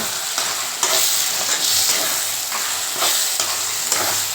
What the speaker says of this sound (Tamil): ஒரு ரெண்டு நிமிஷம் நல்லா இந்த எண்ணெயிலே வதங்கட்டோங்க